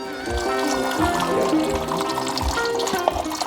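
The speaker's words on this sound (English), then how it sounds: "I'm hoping to actually dump the fluid in here and make it reusable" Engine coolant pours from a container into a plastic tub, a steady liquid splash and trickle heard up close throughout with small drips near the end.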